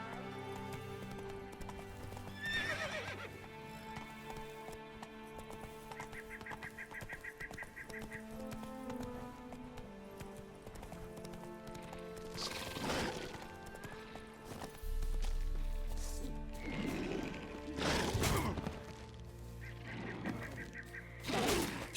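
A horse named Roach clip-clops along in The Witcher 3, a steady, moderately close rhythm of hooves under game music and ambient effects, with occasional louder bursts of other sound.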